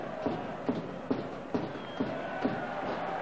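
Stadium crowd at Twickenham during a 1991–92 rugby union County Championship final, Cornwall v Lancashire, a steady roar and murmur carried under a drum thumping out a regular beat about twice a second.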